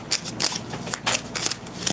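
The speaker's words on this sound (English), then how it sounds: "Let me get two more cards." Tarot cards are handled and shuffled in quick, close, crisp riffling bursts with brief pauses between them.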